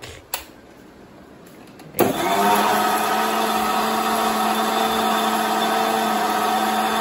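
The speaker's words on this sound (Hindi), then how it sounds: "ते बघा आता मिक्सरला लावलेला आहे मँगो शेक." A kitchen mixer grinder blends a Hapus mango shake, starting abruptly after a quiet moment with a loud, steady whirring motor hum that holds constant and close until the end.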